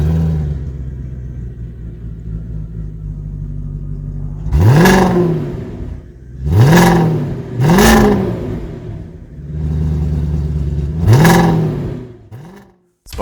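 A 2002 Audi A8 D2 V8 running on LPG: a low idle broken by four sharp revs that rise and fall back, each loud and close, then the engine cuts to near silence before a final thump.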